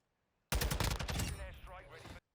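TAQ 56 assault rifle firing in a video game, a loud rapid automatic burst of closely spaced shots lasting under two seconds, with tail echo fading as it stops abruptly.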